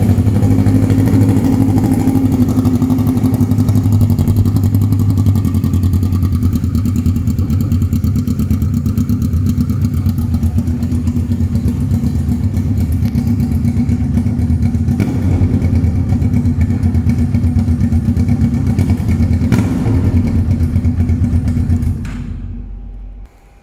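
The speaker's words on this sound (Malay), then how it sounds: "Kasih test bunyi yang langsung tak ada muffler." A Kawasaki Ninja 650 with a short GP-style exhaust and no muffler rumbles loudly and steadily up close, a deep idle with blips of revving throughout before it cuts off near the end.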